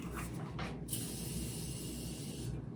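A close, steady hiss of makeup setting spray mist after a couple of brief puffs, one continuous spray lasting about two seconds.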